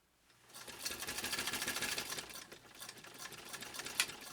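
A 1925 Singer 128 sewing machine stitches through leather, a fast steady mechanical chatter running close and loud for most of the span, then slowing and easing toward the end.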